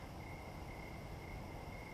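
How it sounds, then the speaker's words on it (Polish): Crickets chirp at night beside water on an overnight fishing trip, a steady continuous faint trill over a quiet outdoor hiss, with no voices. "przynajmniej słychać jak świerszcze gadają"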